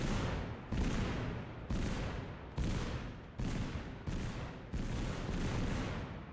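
Rapid repeated blasts in the shooter game Totally Accurate Battlegrounds, about seven loud booming bursts in quick succession, each cutting off sharply before the next.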